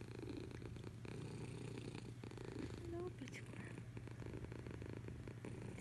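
A cat purring close up, a soft steady rumbling purr that runs throughout while someone talks quietly over it.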